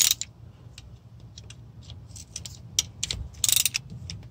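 A hand ratchet works on two 8mm bolts to break them loose, giving quick close clicking pawl ticks in short bursts with a couple of sharper metallic snaps near the end.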